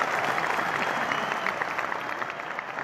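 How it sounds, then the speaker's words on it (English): A live audience at a Las Vegas show bursts into loud, sustained applause, dense clapping with faint crowd noise underneath. "Give him a round of applause."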